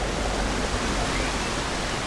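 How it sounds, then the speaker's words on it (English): Broadband rushing water of a river flowing through the town of Ovar, Portugal, a steady, dense wash that holds at an even level for the full stretch with no voices over it. "And a river, wow."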